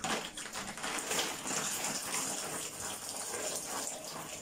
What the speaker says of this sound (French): je vais rincer les cheveux.